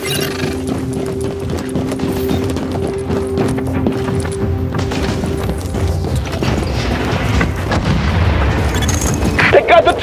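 Placed explosives detonate in The Division during a four-player hard mode mission: a deep boom and crashing rumble swell over steady background game tones, then a few sharp bursts come near the end.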